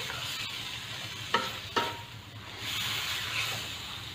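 Kiampong rice being stirred and mixed in a frying pan, a continuous close sizzle with scraping spatula strokes and a couple of sharper knocks against the pan.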